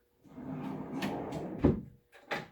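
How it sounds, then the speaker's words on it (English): A wooden display case drawer slides open with a soft rubbing scrape, followed by a couple of sharp knocks and a final bump, recorded close and fairly quiet. "you can pull out this drawer"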